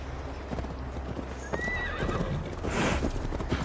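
A horse gallops with quick, steady clip-clop hoofbeats under a rider in Assassin's Creed Valhalla, with a brief whinny partway through and faint ambient wind behind.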